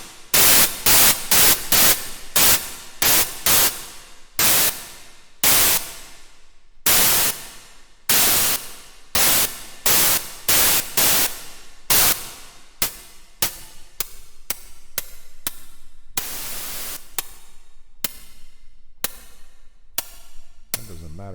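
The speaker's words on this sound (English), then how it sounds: "Some noise." A white noise layer in an Omnisphere synthesizer patch plays as repeated bursts of broadband hiss, rapid at first, then longer swells and choppy pulses, loud and alone with no talk.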